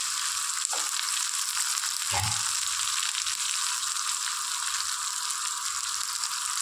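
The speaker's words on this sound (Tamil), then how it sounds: "வடகம் போட்டு தாளிச்சிக்கலாங்க வெங்காயம் போட்டுக்கலாம்" Vadagam and onion tempering in hot oil for a tamarind kuzhambu, giving a steady high sizzle throughout with a couple of brief low thumps as pieces drop into the pan.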